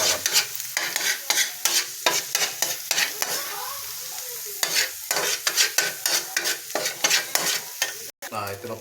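Garlic fried rice sizzling in a pan while a spatula stirs and scrapes it, rhythmic close scraping strokes over a steady frying hiss, loud and with no talking.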